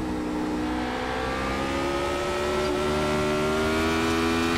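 A Radical race car engine in the iRacing video game rises steadily in pitch as it accelerates, a loud, continuous, close whine with layered harmonics and no pauses or talk.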